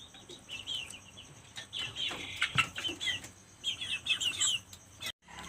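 Kampung hens, mothers of two-month-old chicks, clucking and calling in short repeated bursts with some wing flapping, moderately close in an outdoor coop, no talking.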